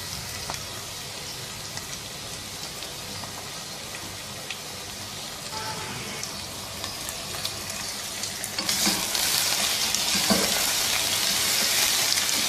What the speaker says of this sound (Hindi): अब ये मटन को इसमें 4-5 मिनट अच्छी तरह से भून लेंगे